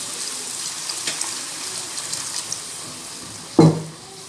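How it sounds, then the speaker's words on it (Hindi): Water poured into a pan of cooking potato and minced meat (aloo keema), a soft running hiss from a tap or pour followed near the end by a short, louder splash and sizzle as it hits the pan. "पानी ऐड कर देते हैं 2 गिलास जितना।"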